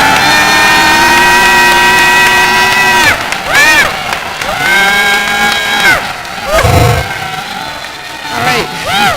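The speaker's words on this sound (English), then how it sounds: "you guys just clap and scream and yell and" A crowd at a women's bookstore 50th anniversary party cheers loudly, with shrill whoops and high sliding screams over a thick wall of noise, swelling and dipping in bursts throughout.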